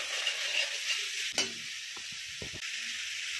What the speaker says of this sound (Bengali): টক দই দিয়ে আবারও ভালো করে ফেটিয়ে নিচ্ছি